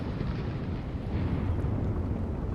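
A missile launch in the Sea Power naval combat game, set in a Strait of Hormuz scenario: a loud, dense roaring rush that fills the short stretch evenly, with no talk.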